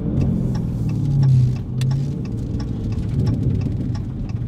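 Dodge Challenger with an MBRP exhaust rumbling through downshifts, a deep, steady burbling drone that swells into a brief throatier rev around the middle before settling back to a low idle-like growl.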